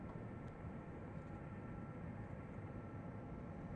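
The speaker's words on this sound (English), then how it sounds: "And we're just going to go taxi in here to the FedEx facility." A DC-8 airliner taxis in X-Plane 11, giving a steady, low engine rumble and broadband whine that holds an even level throughout, heard alone.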